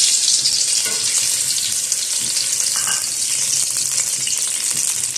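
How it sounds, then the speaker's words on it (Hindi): Chicken stock (yakhni) poured into hot oil sizzles loudly and steadily, a dense bright hiss with faint stirring scrapes throughout. "जैसे ही ऑयल गर्म होता है, जो हमारे पास यखनी है ये यखनी डाल देंगे इसमें।"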